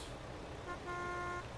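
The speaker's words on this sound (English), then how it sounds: "They're honking their horn." Car horn in American Truck Simulator, a short steady toot lasting under a second over low road and engine rumble, no voices.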